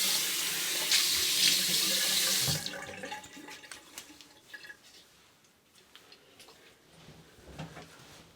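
Water runs loudly from a sink tap for a rinse after shaving, a steady close hiss for about two and a half seconds, then cuts off to quiet splashes and drips.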